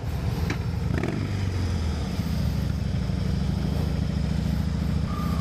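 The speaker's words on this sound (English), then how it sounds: "Get on your Sportster." Harley-Davidson Sportster motorcycle engines rumble steadily and close by on a ride toward Devil's Bridge, a continuous deep, throbbing idle with faint mechanical clatter throughout.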